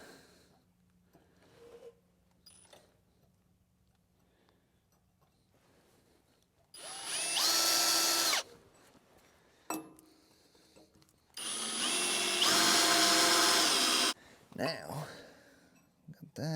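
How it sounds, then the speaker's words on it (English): Power drill boring holes in metal during fabrication work on a small wheel loader, two loud whining bursts of a couple of seconds each, close by, separated by quiet moments and talk. "The amount of holes I've had to drill on this here project is pretty insane."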